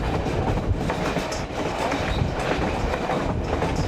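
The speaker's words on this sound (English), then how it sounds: "See the engine coming around the curve there?" Tourist train on a Yukon rail excursion rolling along, steady rumbling clatter of wheels on track with faint squeals, heard from aboard near the back of the train, no voices.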